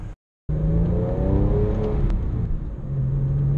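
A Porsche 911 997 Carrera 3.6 with an open-valve SCART exhaust revs close by in a deep rumbling surge that climbs and falls after a brief cut to silence, then settles back toward idle.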